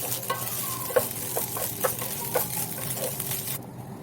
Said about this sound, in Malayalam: അരിയുടെ കളറ് നല്ലൊരു വൈറ്റ് കളർ ആവുന്നത് വരെ നമുക്കൊന്ന് മിക്സ് ചെയ്ത് കൊടുക്കാം